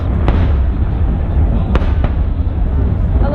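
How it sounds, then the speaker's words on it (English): Fireworks burst over Sydney in a few sharp, loud cracks over a constant low rumble of crowd and distant booms. "Fireworks."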